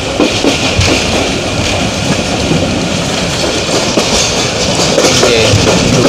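Steady loud rumble and clatter of the Shalimar Express passenger train running from Karachi toward Punjab in rain, heard from inside a carriage with continuous wheel noise and rattling.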